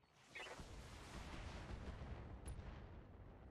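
Mech weapons fire in the BattleTech video game as a dense, continuous roar of booming shots and rumbling blasts that holds steady and loud for several seconds, with no talking.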